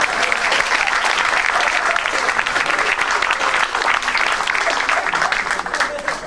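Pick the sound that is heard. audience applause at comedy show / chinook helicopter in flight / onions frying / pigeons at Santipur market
audience applause at comedy show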